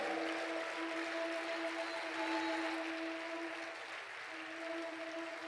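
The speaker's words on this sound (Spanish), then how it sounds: "Démosle el aplauso al Señor." Congregation applause in a Spanish-language church service, a broad, even roar of clapping that holds steady and moderately loud, with a faint sustained tone running underneath.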